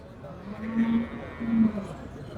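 A water buffalo at a cattle market gives two low, drawn-out moos close by, heard amid murmuring voices and market noise.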